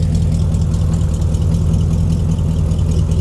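A Ford Ranger pickup fitted with a 302 5.0 V8 idles with a deep, steady, rumbling burble, heard close from the rear of the truck with no talk.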